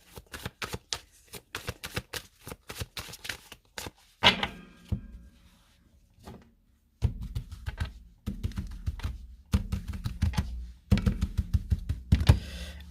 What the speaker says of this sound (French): On va prendre 2 cartes de cet oracle.